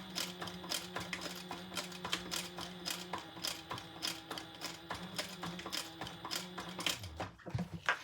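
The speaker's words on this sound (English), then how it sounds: "I'll backstitch. Because I want to backstitch over this card slot." Sewing machine backstitching across the card slot of a leather wallet, a quick, steady mechanical clatter of needle strokes, close and fairly quiet, slowing and stopping near the end.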